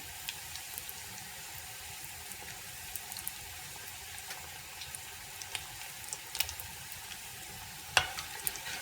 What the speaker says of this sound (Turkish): kızarıncaya kadar kızartıyoruz ve çok fazla içli köfte atmıyoruz içine